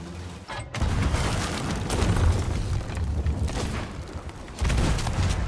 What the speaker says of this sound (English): Keep cannoning him. Just keep cannoning.